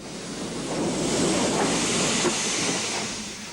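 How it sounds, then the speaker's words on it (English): A steam tank locomotive starting its manoeuvres to run down onto its train, heard as a continuous broad steam hiss and rumble that swells and fades over a few seconds, fairly close, with no voices. "The 282 tank begins its manoeuvres to run down onto its train."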